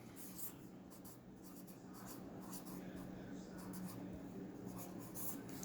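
A pen scratches steady strokes across paper while drawing a jack-o-lantern, a faint, close, continuous scribbling texture with soft rhythmic pulses and no talking.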